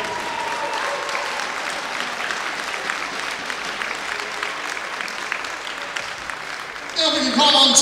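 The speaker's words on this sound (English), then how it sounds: "a warm round of applause, please, for our winner" An audience applauds the winner of a men's singles badminton final at the Irish Open, steady dense clapping filling the hall and swelling louder near the end, with a voice over it in the last second.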